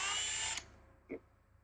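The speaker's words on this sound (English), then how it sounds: "So we'll use our step drill." A step drill whines briefly at high speed while boring a 3/4-inch hole for a connector, cutting off abruptly, followed by a short low knock as the tool comes away.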